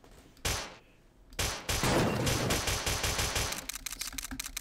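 Rapid gunfire from a video game sprays at an enemy in a dense burst after a couple of separate shots, with rattling automatic fire continuing close and loud throughout.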